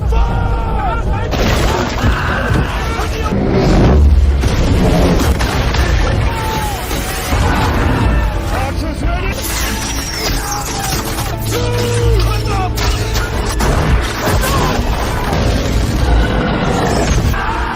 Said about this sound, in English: The battle begins as both sides launch explosive weapons from their sling shafts